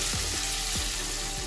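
Prawns fry in hot mustard oil with a steady, bright sizzle, close up and continuous, with a few soft scraping stirs underneath.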